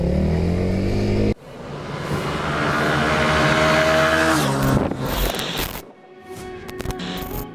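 A car roars past close by and its engine sound sweeps and fades, followed by a cut to quieter road noise with a few brief clicks.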